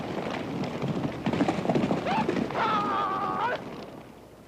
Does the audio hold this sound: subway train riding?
no